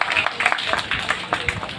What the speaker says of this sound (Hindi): मेरे समक्ष बैठे सभी युवा साथियों का जोर से तालियां बजा दें।